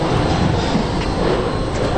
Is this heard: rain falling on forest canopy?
no